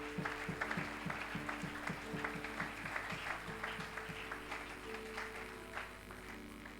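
A church congregation claps in a steady rhythmic beat during a worship service, the claps close and even, with sustained music playing underneath.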